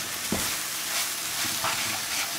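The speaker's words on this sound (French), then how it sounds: "On va mélanger comme ça pendant 2 minutes." Rice frying in butter with onion being stirred in a pan, a steady soft sizzle broken by a few scraping stirs close by, with no talking.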